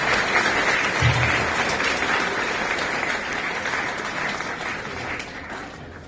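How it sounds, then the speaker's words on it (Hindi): A large audience claps loudly and continuously at a New Year's gathering, a dense, steady wash of applause that holds for several seconds and eases slightly toward the end. "करतल ध्वनि से जोरदार ताली बजाएं"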